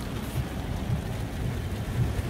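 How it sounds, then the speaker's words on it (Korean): Heavy summer downpour in Yangsan-dong, Gwangju, in August 2020: a dense, constant wash of rain with low, rumbling thunder underneath, and no voices. "지금 너무 비가 와요."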